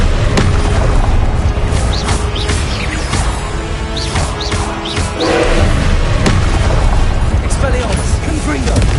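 Confringo blasting-spell explosions in Hogwarts Legacy, a rapid string of booms and thuds with sharp cracks and swooshing spell effects, loud and dense throughout, with a voice shouting spell names over the action.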